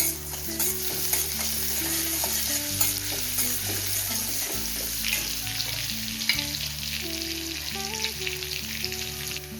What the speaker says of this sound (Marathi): सो लसूण थोडा जास्त टाका, छान परतून द्यायचा आहे